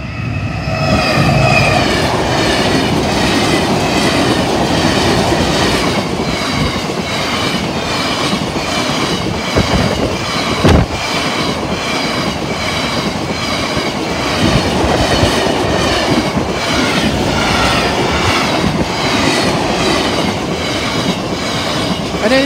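A Colas Rail freight train hauled by a Class 70 locomotive rolls through a level crossing on the Cleethorpes to Lincoln line, a loud continuous rumble with steady rhythmic clatter of wagon wheels over the rails and occasional squeals, with no talk.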